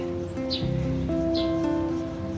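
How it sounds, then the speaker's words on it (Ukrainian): Small birds give a couple of short, bright chirps outdoors on an autumn day, fairly faint over a steady, low background hum. "Пташки співають."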